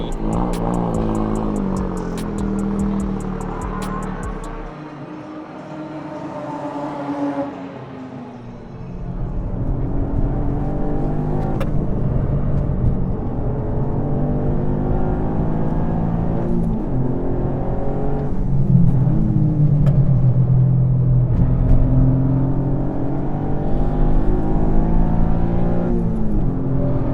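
Car with a Milltek exhaust driven hard on a race track, a loud close engine note rising and falling through repeated revs and gear shifts, with a brief lull before it builds again.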